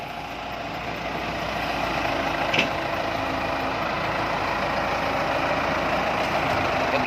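A palm-loader tractor engine idles steadily, a continuous low rumble that holds nearly constant throughout, with a brief faint click partway through and no voices.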